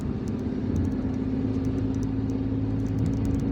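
A car driving through the streets of Algiers, from Kouba toward Draria, heard from inside as a steady low engine and road rumble with a constant hum and no talking.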